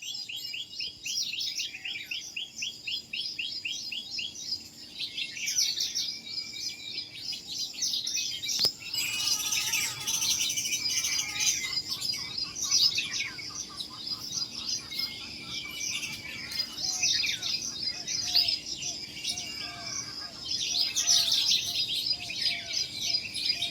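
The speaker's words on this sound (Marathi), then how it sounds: "सकाळ सकाळ हळूहळू चिमण्या लागल्या त्या" Many house sparrows chirp and twitter continuously in a busy, overlapping chorus while feeding on scattered rice in a village, with a faint insect-like trill underneath in the background.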